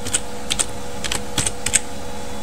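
A command for MATLAB's imshow function is typed on a computer keyboard: a quick run of about a dozen crisp key clicks in small irregular bursts, close and clear over a faint steady hum.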